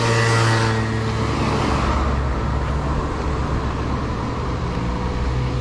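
Road traffic in Mamoudzou, Mayotte, with cars and motor vehicles driving past, a loud passing rush at the start settling into a continuous, close roadway rumble with no talk.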